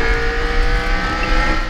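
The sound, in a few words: kart engine accelerating, from video game Mario Kart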